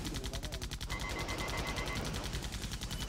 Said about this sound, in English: Shooting him right now.